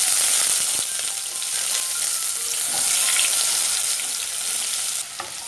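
Coconut slices fry in oil in a pan for a Kerala-style mutton roast, giving a steady close hiss of sizzling with occasional scrapes of stirring throughout, no voices.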